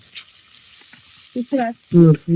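Chili frying in oil for chui jhal mutton gives a faint, steady sizzle that grows louder toward the end, where several short, strong tonal bursts cut over it.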